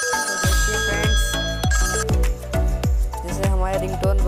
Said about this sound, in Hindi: पहले 2 बार ट्रिंग रिंगटोन आएगी, उसके बाद आपका नाम बोला जाएगा।